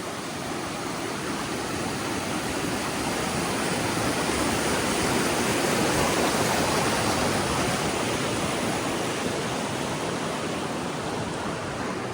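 Loud, constant rush of the Paradise River on the Wonderland Trail, heard from a crossing above it, a broad, unbroken roar with no pauses and no voices throughout.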